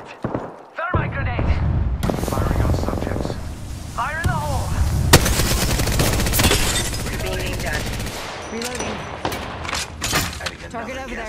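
Rapid gunfire and explosions fill a busy Apex Legends battle, dense bursts of shots over game effects, with voices talking throughout.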